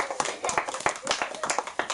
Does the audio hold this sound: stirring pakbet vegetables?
no